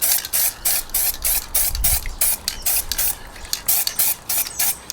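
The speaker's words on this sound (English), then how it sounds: "just light little spray about 20 centimeters away from the thing that you're spraying" Short bursts of aerosol spray paint hiss in a quick, uneven rhythm, close by, with brief gaps between each puff, applying camouflage through stencils.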